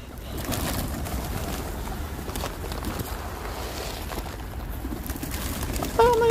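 City pigeons feed on grain and pasta outdoors, giving soft cooing and a light patter of pecking and shuffling under low ambient noise, with a brief sharper sound near the end.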